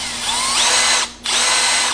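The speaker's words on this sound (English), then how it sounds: "I just cut a piece off, chucked it up in the drill." A power drill spins a short piece of cut motorcycle tachometer cable from a Honda CB550, a loud close steady whine that briefly drops off and then spins back up.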